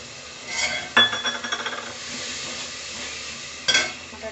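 Green peas tipped into cooked masala in a pressure cooker while making matar khichdi, giving a short clattering sizzle near the start and another brief burst near the end over a low steady hiss.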